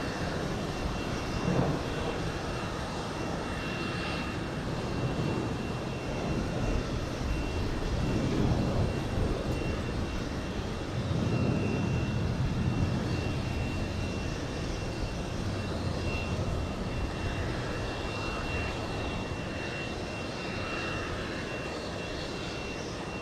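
Embraer jet aircraft at JFK airport, a steady broadband engine roar held throughout at moderate distance, swelling slightly mid-way, with no talk over it.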